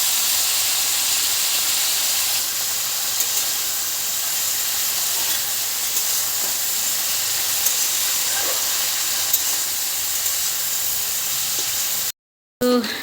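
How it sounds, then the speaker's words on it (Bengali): Vegetables fry in a pan on a gas stove for a vegetable dal. A loud, steady, close sizzle and hiss runs without a break and stops abruptly near the end. "এখন রান্না হচ্ছে, সবজি ভাজা হচ্ছে"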